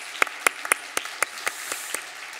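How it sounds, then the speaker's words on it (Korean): A few people in a church congregation clap for the worship team, with sparse, distinct handclaps in an uneven rhythm, crisp at first and then fading quickly. "우리 찬양팀에서 다시 한번 박수로 격려하겠습니다"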